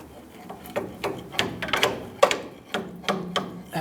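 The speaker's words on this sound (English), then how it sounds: "Sometimes you can come in here with the hammer on the end and just push it out." Hammer and pry bar strike and lever against a tie rod end on a 1992-1996 Ford F-150, a series of close, uneven metallic knocks and scrapes with quiet gaps between hits.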